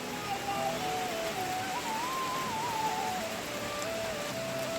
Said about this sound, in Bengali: এই যে দেখতে পাচ্ছ পুরো বৃষ্টি হচ্ছে প্রচণ্ড পরিমাণে, দেখো শব্দ শুনতে পাচ্ছ তোমরা